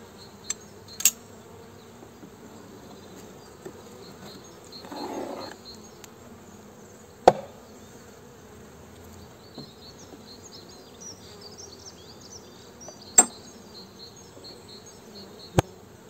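Honey bees buzzing around an open hive during a spring inspection, a faint steady hum in the background with occasional louder passes and clicks.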